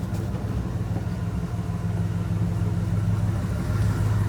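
A 1977 Ford Bronco idles in neutral with a low, steady rumble that stays even and close throughout.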